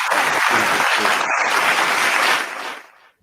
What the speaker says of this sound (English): If you keep clapping over me talking